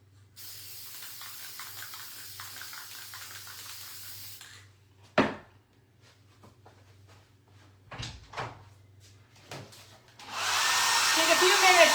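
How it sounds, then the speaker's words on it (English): A hair dryer switches on near the end with a loud steady whoosh, after a stretch of quiet hiss, a sharp knock and a few clatters and thuds. "Take a few minutes to run the hair dryer just to kind of get it to go."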